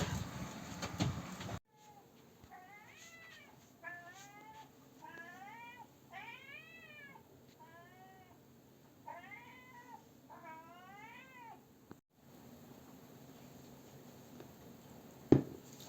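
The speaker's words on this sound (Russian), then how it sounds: "Кот мой бегает под дождем" Outdoors in the rain, a cat meows about eight times in a loose series of drawn-out calls over steady, faint background hiss.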